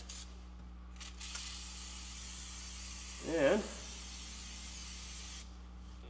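A short burst of Fluid Film rust-protection aerosol spray hisses once, close by, sprayed on a 2011 Dodge Durango brake caliper area, with a brief spoken word earlier over a steady low hum.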